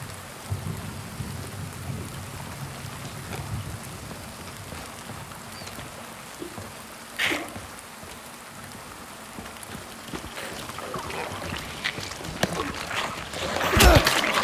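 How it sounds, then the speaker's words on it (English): Steady rainfall in the Silent Hill 2 remake, a constant hiss of rain with occasional rumbling thunder and sharper impacts, including a louder burst near the end, with faint game sounds beneath. "Rain is always difficult to render realistically in games, isn't it?"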